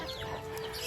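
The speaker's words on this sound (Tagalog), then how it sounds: "magpapakain tayo ng mga tropang manok dito sa baba" Hungry farm chickens cluck in a dense, continuous jumble while being fed on the ground, close and busy against a steady outdoor hum.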